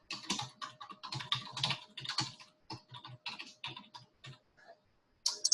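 Fingers typing on a computer keyboard while an email is written: a steady patter of close, crisp key clicks in uneven bursts with short pauses, heard alone.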